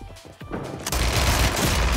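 Pistol gunfire in the Warzone video game, a burst of loud, dense shots that starts sharply about halfway through and fills the rest of the short stretch with sustained blasts.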